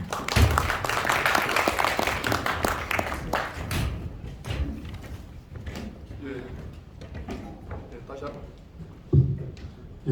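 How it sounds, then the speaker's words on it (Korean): An audience at a Korean independence declaration anniversary ceremony claps, a dense burst of applause at the start that thins into scattered claps and fades, with a voice speaking over a hall. "큰 박수 부탁드리겠습니다"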